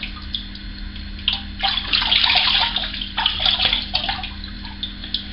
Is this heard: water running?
yes